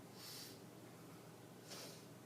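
A person sniffs twice through one nostril at a time during a nasal patency check in a clinical exam, two short close airy sniffs spaced about a second apart over quiet room tone.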